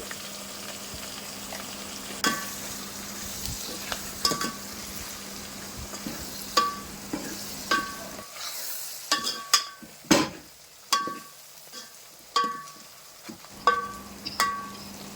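Curry leaves and turmeric stirred into pieces frying in a pan: repeated spoon scrapes and clanks against the pan, growing sharper and more rhythmic in the second half, over a steady sizzle with no voices.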